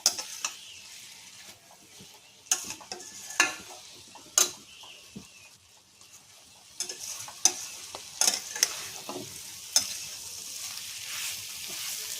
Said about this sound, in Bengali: এবারে নারকোলটাকে একটু ভেজে নিই।